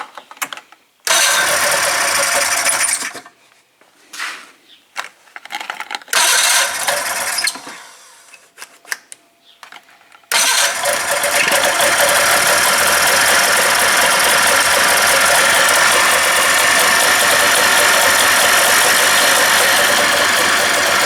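A 1996 Polaris Classic snowmobile engine cranks in several loud bursts with gaps, then fires and settles into a steady, loud, close idle that runs without letup to the end.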